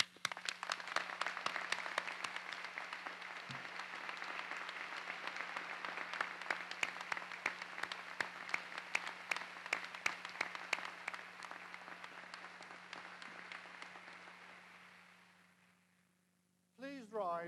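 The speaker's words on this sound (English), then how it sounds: "I ask my colleagues and the supporters to join with me in applauding the magnificent collection of graduates in front of me in this great hall." Sustained applause from a large audience cheering graduates in a great hall at a 2002 Edinburgh graduation ceremony, steady dense clapping that slowly fades out, followed by a brief burst of other sound at the end.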